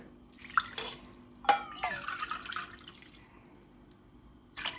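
Hot water poured into black kavuni rice porridge gives soft, irregular splashes and drips in a quiet kitchen, a few distinct bursts spread across several seconds.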